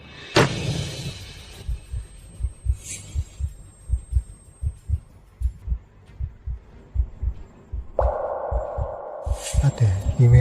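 A dramatized heartbeat effect thumps in a steady, loud double-beat pulse, with brief tonal swells and a rising hum near the end, used under a tense scene in a drama.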